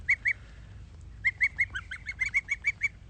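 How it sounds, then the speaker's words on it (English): Baby geese in a garden peep and chirp in repeated high, bright bursts, two calls at first, then a quick run of close, fairly loud peeps over low background rumble. "hanging out in the garden playing with some baby geese"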